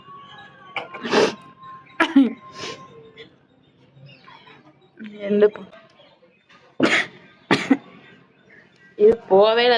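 A person in a sneezing challenge producing a series of short, sharp sneezes and cough-like bursts, close and loud, spaced irregularly with quiet breathing and faint background noise between them.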